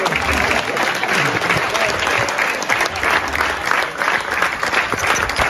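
A live comedy show audience claps loudly and steadily for a performer, a dense, continuous wash of many hands lasting the whole stretch with no letup.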